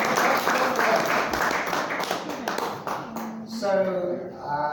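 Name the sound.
audience clapping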